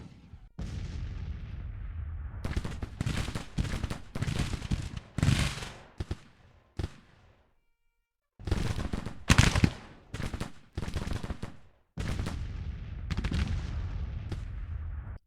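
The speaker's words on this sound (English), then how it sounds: "they kind of move forward their artillery and expose it to our skirmisher fire." Artillery and skirmisher gunfire from a Civil War-era battle in the strategy game Grand Tactician, sounding as repeated loud bursts of shots and booms. The volleys come in clusters separated by brief quiet gaps.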